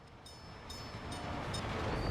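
A train in the game Workers and Resources rolls along with a steady, building rumble and faint periodic rhythmic clicks, moderately distant, with no talking.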